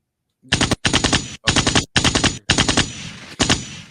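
Rapid machine-gun bursts from a movie trailer in several tight volleys, loud and crisp, separated by short gaps of silence.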